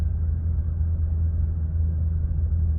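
Steady low engine rumble from a 2010 Cummins diesel truck with a 68RFE transmission under engine braking, a deep, even droning hum heard from inside the cab with no voices.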